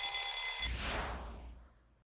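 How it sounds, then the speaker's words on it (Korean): An alarm clock rings in a bright continuous jangle that cuts off abruptly and leaves a fading thump and room noise, with no voices. "알람 시계에."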